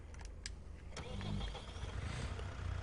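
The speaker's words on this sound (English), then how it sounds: "So we will hop on the tractor and get that taken care of." A tractor engine cranks and catches at a rural baseball field, a few clicks and a brief whir giving way to a low, steady rumble that settles into a close idle.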